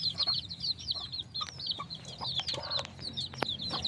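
Roosters cluck and squawk in rapid, agitated bursts as several young males fight, the calls fairly close and overlapping, with scuffling and a quiet farmyard background between them.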